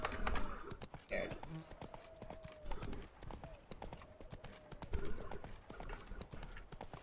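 Horse Roach's hooves clip-clopping in rhythmic bursts in a video game, fairly close, with a voice talking over the hoofbeats.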